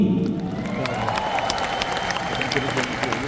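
An audience at a gathering applauds, producing a sustained, even patter of many hands clapping that holds steady from start to end, fairly distant with a faint background murmur.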